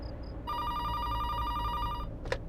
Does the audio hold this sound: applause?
no